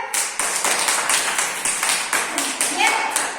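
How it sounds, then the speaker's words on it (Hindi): A group of children in a classroom floating-and-sinking activity clapping in a steady, fairly even rhythm, with some voices mixed in around the claps. "ताली बजाओ सब"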